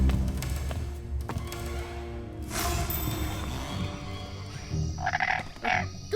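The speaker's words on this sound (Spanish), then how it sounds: "¿Qué fue eso? Una rana, afuera." A frog croaks outside at night, a short burst of croaks near the end rising over a steady, noisy dark background with no one talking.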